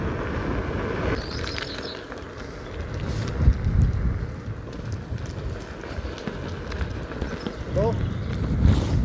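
Wind buffeting a rider on a Lynx or Master Pro electric scooter at speeds above 35 km/h, a heavy low rumbling roar over the microphone with gusty surges throughout.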